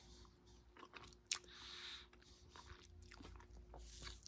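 Crunchy snack from a Russian IRP-PR military ration pack being chewed up close, with a few sharp crisp bites followed by quieter, steady crunching, fairly faint overall.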